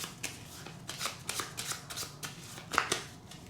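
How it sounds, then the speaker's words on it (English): A stack of game cards is riffled in several quick, crisp shuffles, close and fairly quiet, with short pauses between bursts. "we're going to take this stack, flip it over, and give it some good shuffles"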